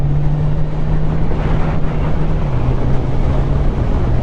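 Kawasaki Ninja 1000 SX motorcycle engine while riding, a steady low droning hum with a slight pitch drop partway through, heavily mixed with loud rushing wind noise.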